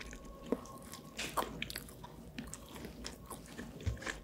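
Someone eats plain salt bread close to the microphone, with soft bites and quiet chewing and a few sharper crunchy moments, low in level and without speech.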